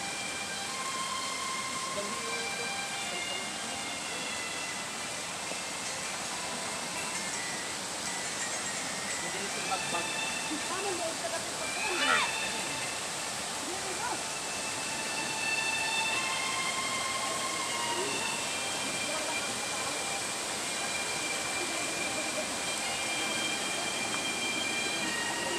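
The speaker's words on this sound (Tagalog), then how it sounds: "nandito na tayo sa Falls ng Apa-Apa Bangonay, Habonga, Agusan del Norte" Apa-Apa Falls in Bangonay, Jabonga, Agusan del Norte, heard as a steady, dense roar of falling water that stays constant throughout, with faint distant voices now and then.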